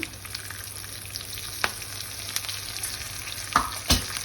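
Dried red chillies, green chillies, mustard seeds and cumin frying in hot oil for a tempering, a continuous close sizzle with crackles and a few sharp spoon scrapes and clinks near the end.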